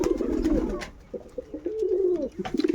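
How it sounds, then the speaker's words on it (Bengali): Pigeons coo close by in a low, throaty, repeated rolling call that swells and pauses across a few seconds, with no talking over it. "এখানে লক্ষ্য কবুতর ডাকছে"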